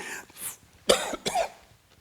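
A few sharp coughs come in quick succession, close and fairly quiet, with a breathy sound just before them.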